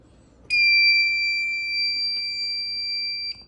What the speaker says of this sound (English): but that detector just went off.